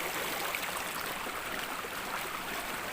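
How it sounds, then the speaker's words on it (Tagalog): Mountain spring water flows from a bamboo pipe at a mountainside spring in Cumba, Batangas. The steady, loud rushing and splashing fills the whole clip without pause. "At ito po yung pinakabukal."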